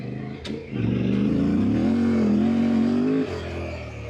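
Yamaha Tenere motorcycle ridden hard like a rally bike on a trail in the Algarve, engine rising in a sustained loud rev with a steady droning pitch before dropping off, close to the rider.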